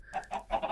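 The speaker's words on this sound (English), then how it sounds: "a whole bunch of ducks and chickens" Chickens clucking on a Minecraft farm, a quick run of three short clucks close by with no other sounds.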